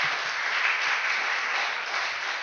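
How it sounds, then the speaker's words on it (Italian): Steady audience applause fills the room at a lecture on happiness given by a psychologist, a dense, even wash of many hands clapping continuously with no speech over it. "Facciamo un applauso,"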